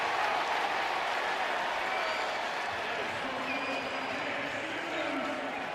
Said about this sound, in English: Good crowd here today in Nashville making some noise.